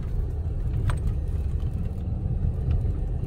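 Steady low rumble of a car driving slowly along a dead-end village street in Ceibilla, Nacaome, Valle, heard from inside the cabin, with a faint jingle near the start and no talk.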